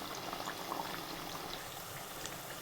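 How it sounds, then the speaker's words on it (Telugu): Homemade bottle gourd papads deep fry in hot oil with a steady, soft bubbling sizzle and scattered small pops, heard alone at low volume. "మంచి ఈ కలర్ గోల్డ్ కలర్ వచ్చేలాగా డీప్ ఫ్రై చేయండి."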